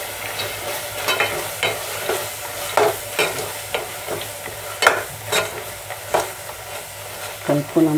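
Fresh green chickpeas are stirred into gongura (sorrel leaf) curry in a pan, giving irregular scraping spoon strokes over a faint sizzle, close and moderately loud, with no talking.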